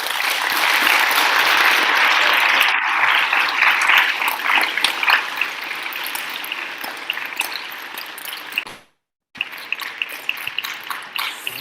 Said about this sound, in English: We all please give a big round of applause for our speakers.